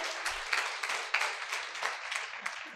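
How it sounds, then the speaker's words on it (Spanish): Audience applause with a steady wash of clapping and a few sharper bursts, heard alone without speech, at a motivational leadership workshop talk. "Aplauso para Dexen."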